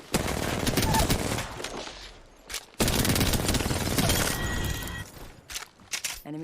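Rapid bursts of automatic gunfire in a shooter video game, loud and dense, break off briefly, then resume in a long sustained volley before trailing into scattered single shots and mechanical clicks.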